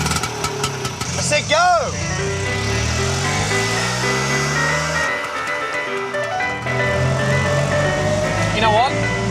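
A Messerschmitt microcar, built by the former fighter-plane maker, pulls away with its small engine buzzing and rising in pitch, under shouting and talk from people nearby.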